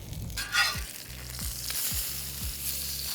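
Chilean sea bass fries skin-side down in a hot pan, a soft steady sizzle with a few short bumps and clinks from the pan, close and without speech.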